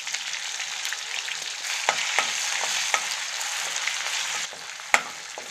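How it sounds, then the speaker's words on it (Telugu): Ginger garlic paste frying in oil with green chillies, a steady close sizzle punctuated by scattered pops and spatula taps as it is stirred, for a spicy prawn fry. "ఇప్పుడు 2 టీ స్పూన్ అల్లం వెల్లిపాయ పేస్ట్ వేసి వేయించుకోవాలి."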